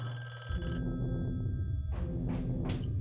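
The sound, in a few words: telephone ringing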